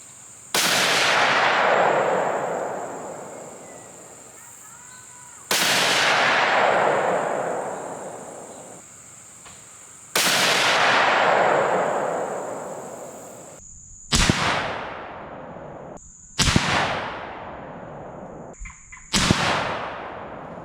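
A .308 Winchester rifle fires six loud, sharp shots, spaced several seconds apart; the first three ring out with long echoing decays, while the later three are quicker and more clipped.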